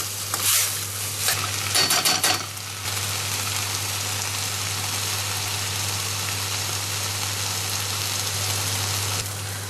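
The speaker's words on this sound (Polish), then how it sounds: "Mięsko już bardzo ładnie pachnie. Teraz je mieszam i opiekam dokładnie z każdej strony, najlepiej na taki złocisty kolor." Meat for pilaf being stirred and fried in a pan, a steady close sizzle with a few brief scraping stirs early on, then an even crackle that continues alone.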